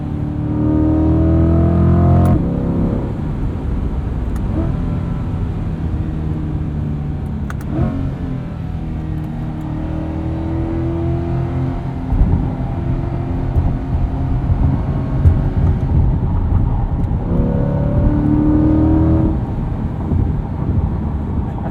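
A 2021 Chevrolet C8 Corvette Z51 with the Performance Package and dual-clutch gearbox drives and accelerates, its engine droning loud and steady from inside the cabin, with rising revs and gear changes over about twenty seconds and no talking.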